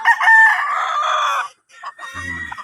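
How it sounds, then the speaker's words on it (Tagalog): Gamecock roosters crow on a farm, one long, loud call, then a short pause and a second crow, with a few low clucks near the end. "ayan yung mga tandang"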